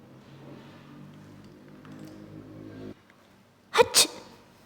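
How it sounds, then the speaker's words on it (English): Two sharp, loud sneeze bursts come close together near the end, following a stretch of low background hum and a brief silence. "this is the sound of a sneeze"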